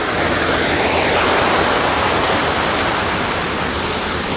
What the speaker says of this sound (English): you see the water coming down and the water goes this way and then that way, and it goes around rocks